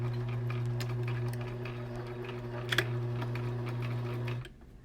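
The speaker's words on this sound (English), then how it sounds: "I'm just gonna stitch this about 3 stitches and a back stitch" A sewing machine stitches a fabric face mask with a few forward stitches and a backstitch, its steady close motor hum running unbroken until it stops near the end.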